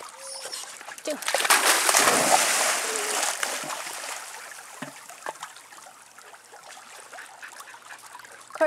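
Dogs splashing as they swim, a burst of churning water early on that settles into softer sloshing and trickling, with a voice speaking briefly.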